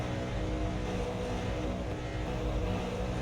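Several V8 Supercar engines idle and rev together on the starting grid at Montreal's Circuit Gilles Villeneuve in the iRacing sim, a steady, dense mechanical drone running throughout with no talk.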